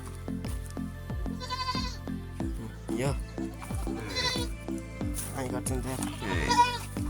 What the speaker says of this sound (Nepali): अनि यो बाख्राको पाठी